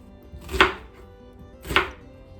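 A medium sweet onion is cut into chunks with a knife on a board, two sharp, distinct chops about a second apart, close and clear against a quiet background.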